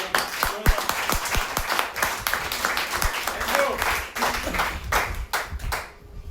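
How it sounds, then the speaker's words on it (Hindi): A training-session audience gives the five directors a loud round of clapping: dense, continuous hand claps with sharp individual hits, sustained for several seconds before tapering off near the end. "5 डायरेक्टर के लिए जोरदार ताली होती है।"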